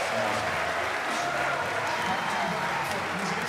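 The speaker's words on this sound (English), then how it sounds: "Give them a round of applause." A church congregation at a late service applauds in a continuous, even roar of clapping, with voices talking over it throughout.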